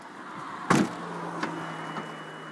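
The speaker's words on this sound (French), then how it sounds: "Le véhicule ouvre automatiquement le coffre pour vous signaler que la clé est dans le coffre" A 2005 Infiniti G35x trunk unlatching on its own, a sharp mechanical clunk followed by a faint motor hum and a couple of softer clicks, close and quiet.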